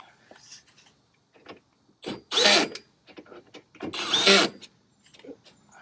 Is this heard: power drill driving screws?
yes